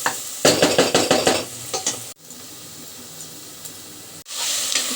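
Okra pieces fry in a pan for mutton curry, with a busy burst of stirring and sizzling at first, then a steady low hiss broken by two sharp scrapes.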